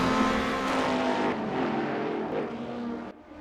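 A Mustang race car engine roaring in a racing video game, a loud sustained drone with shifting pitch as it accelerates, tapering off near the end.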